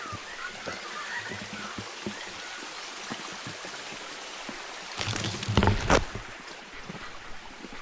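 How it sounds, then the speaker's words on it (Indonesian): Bird calls ring out over steady outdoor background noise, growing louder in a brief cluster of sharp calls midway before fading back. "Dengerin suara burungnya."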